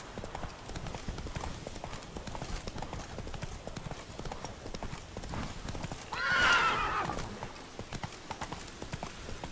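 Roach the horse in The Witcher 3: Blood and Wine trots with a steady, close clip-clop of hooves and gives one clear neigh partway through. A voice talks faintly along with the hoofbeats.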